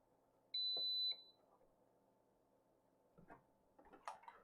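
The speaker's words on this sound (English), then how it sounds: "The beep is very strong." A single steady high-pitched electronic beep, about half a second long, comes from an ATEZR L2 24W laser engraver with air assist. It sounds close and clear over a quiet room, followed later by faint handling clicks and rustles.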